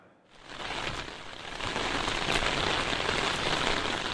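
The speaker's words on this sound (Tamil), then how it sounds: "தமிழகத்தில் பரவலாக மழை பெய்துள்ளது" Heavy rain falls in Tamil Nadu, a dense steady hiss that swells within the first second and then holds loud and even with no voices.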